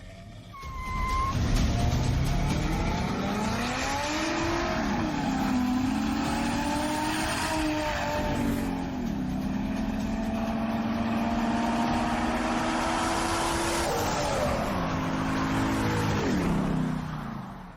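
A 500 hp Toyota FJ Cruiser with a 2JZ-GTE swap races a Lotus, engines climbing through long rising revs with gear changes, loud and sustained over roughly fifteen seconds.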